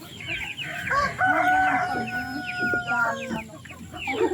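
A rooster crows loudly amid steady clucking from several Light Sussex chickens nearby, with other fowl calling throughout.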